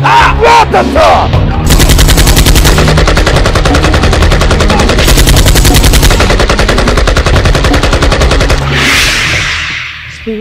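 Sustained, loud automatic gunfire from a Nollywood movie scene, dense rapid volleys rattling continuously for several seconds before tapering off, with a shout near the start.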